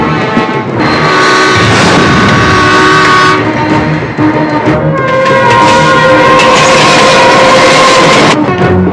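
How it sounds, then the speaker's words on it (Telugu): A train rumbles loudly and steadily on its rails as it draws near, with sustained horn-like tones over the clatter, in a tense scene where an oncoming train threatens a load of bombs. "ఎదురుగా వేరే రైలు బండి వస్తుందిరా"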